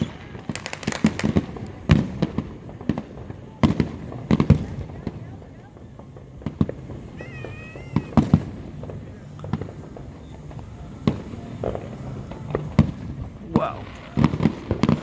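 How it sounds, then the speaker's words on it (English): Big fireworks burst at a July 4th show with a string of sharp, irregular bangs and pops at moderate distance, while people talk and react in between. "We'll stick to the big fireworks."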